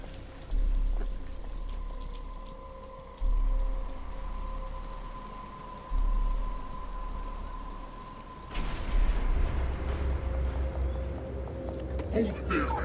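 Steady rain hisses across a Batman: Arkham Asylum scene as a continuous wash under game music, with a low tone and heavier bursts later on.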